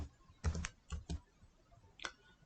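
Keys clacking on a computer keyboard in short bursts of a few quick strokes with pauses between, close and fairly quiet, with no talking.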